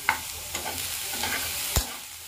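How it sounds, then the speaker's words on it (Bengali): Paneer and oats stirred and fried in a pan: a low sizzle with a few scraping strokes of the spoon and one sharper knock near the end, heard up close with no talk. "এখন এগুলো একটু নেড়ে নিয়ে ভেজে নেবো।"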